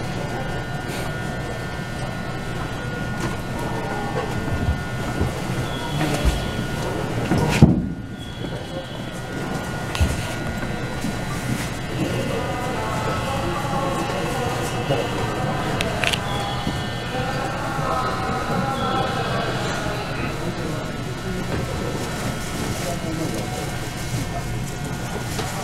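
An Osaka Higashi Line first train departs Osaka Station's underground platform on opening day, rumbling steadily away with a low mechanical drone and rising hum, a brief clunk partway through, and voices talking faintly in the background.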